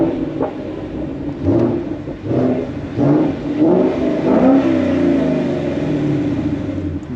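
A 2018 Mustang GT with a Corsa Sport catback exhaust revs in a series of deep, rumbling blips that swell and fall, close and loud, ending in a sustained throaty drone.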